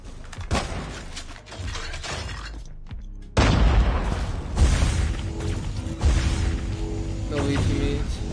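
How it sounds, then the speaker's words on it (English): An explosion bursts suddenly in a video game shooter, a loud crash and boom after a short quiet gap, followed by continued rumbling game noise and clattering effects. "Grenade!"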